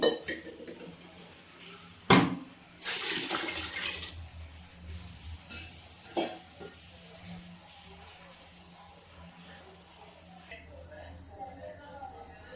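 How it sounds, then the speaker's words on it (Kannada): Water poured from a glass onto rice in a pressure cooker while making pulao, a short splashing pour after a metallic clank, fairly close, followed by softer kitchen handling noises and talk. "4 ಗ್ಲಾಸ್ ಆದಷ್ಟು ನೀರು ಹಾಕೊಳ್ತಾ ಇದ್ದೀನಿ"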